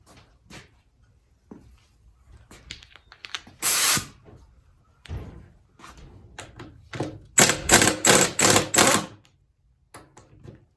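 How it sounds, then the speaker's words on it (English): An air impact wrench loosening 14 mm bolts fires in short hissing, hammering bursts, first a single blast and then a rapid run of four or five rattling impacts, surrounded by quieter clicks and workshop handling noises. "I'll probably use the air impact."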